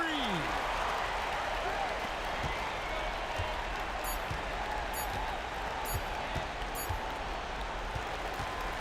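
Crowd noise from the home fans in the NBA 2K26 basketball video game keeps up a steady, dense cheering and applause wash, with faint ball bounces and commentary speech over it.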